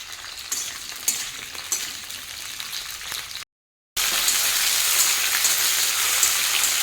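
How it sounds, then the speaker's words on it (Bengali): Green beans picked from winter vegetables fry in a pan with a steady, close crackling sizzle, broken by a brief silent gap before the frying resumes louder. "সবজি থেকে শিমগুলো বেছে নিয়ে শিমগুলো ভেজে নিচ্ছি"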